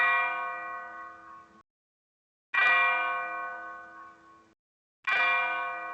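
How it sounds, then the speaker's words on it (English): Three loud, resonant bell strikes ring out at even intervals, each clang decaying slowly with a shimmering tone before a brief silence. "It seems like as soon as these bells start to go off"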